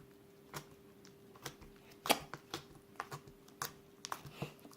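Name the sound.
clicking of a small slime being squeezed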